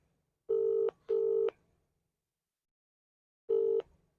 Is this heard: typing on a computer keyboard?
no